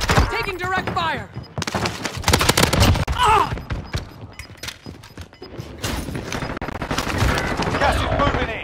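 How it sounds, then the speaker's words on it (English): Gunfire in the shooter Warzone, sharp close shots and rapid bursts cutting through game voice callouts, spread in clusters with brief pauses across the stretch. "Taking direct fire!"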